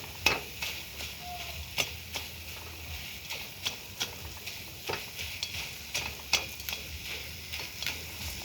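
A spatula stirs coconut filling with melting sugar in a pan, a soft rhythmic scraping about once or twice a second over a faint sizzle, close and quiet.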